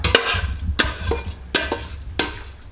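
A spoon scrapes baked macaroni and cheese from a casserole dish in four sharp, close scrapes at roughly even intervals, with soft sticky squelches between them.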